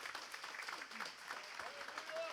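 A church congregation applauds during a communion service, a dense wash of clapping that sounds distant and fairly faint, with voices calling out over it.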